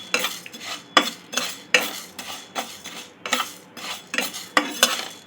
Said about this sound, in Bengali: হালকা করে একটু ভেজে নিলে ডালের একটা সুন্দর সুগন্ধ আসে।